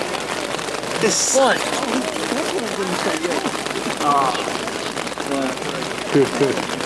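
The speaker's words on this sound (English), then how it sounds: "It's raining outside" Steady rain patters on a surface throughout, a constant wash of noise under a few people talking briefly, aboard the USS Nassau on a Mediterranean cruise.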